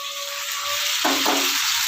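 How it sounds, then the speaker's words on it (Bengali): Chopped tomato dropped into vegetables frying in a pan with chilli and spices, a loud sizzle rising sharply as it lands, then steady frying and stirring, with no talk. "এবার আমি দিয়ে দিচ্ছি কেটে রাখা টমেটো কুচিটা"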